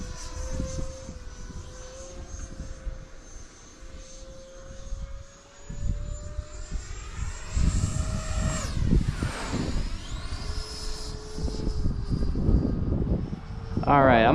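An E-Flite Viper 90mm RC electric ducted-fan jet makes an upwind pass, its whine rising and sweeping as it flies past, fairly loud over wind noise, with a person talking.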